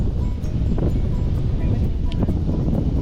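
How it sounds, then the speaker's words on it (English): Wind blows outdoors during fly fishing, a steady buffeting rumble across the microphone throughout, with faint speech mixed in. "So right now the wind is coming from a certain direction,"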